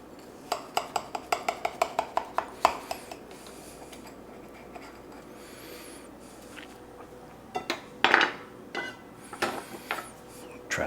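A knife or spatula cuts into a flaky-crusted chicken pot pie, a quick run of crisp crackling taps followed by scattered clinks of utensil on dish, close and fairly quiet.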